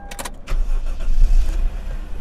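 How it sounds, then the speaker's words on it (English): The 2.5-litre 1JZ-GE inline-six of a 1998 Toyota Crown Royal Saloon G cranks briefly and catches, then settles into a smooth, close idle. "So the engine starts really nice."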